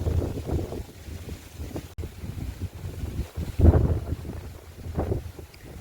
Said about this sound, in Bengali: এত ঝোড়ো হাওয়া হচ্ছে,